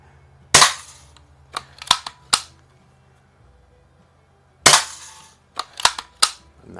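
A Daisy 102 Model 36 BB gun fires close by in two groups of sharp snapping reports, each group a loud shot followed by three quicker, lighter cracks, separated by a short quiet pause.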